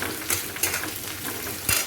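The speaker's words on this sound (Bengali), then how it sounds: "পাঁচফোড়নটা দিয়ে দিলাম, আর এই তেজপাতাটা দিয়ে দিলাম" Panch phoron spice seeds and a bay leaf sizzling in hot oil in a home kitchen, a short steady hiss broken by a few sharp utensil clicks and stirring sounds.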